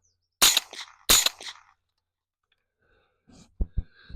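A Silencer Co Omega 300 suppressor on a 10.5-inch AR pistol fires into dirt outdoors: two sharp, loud muffled cracks about half a second apart, then quieter clicks and a couple of short pops.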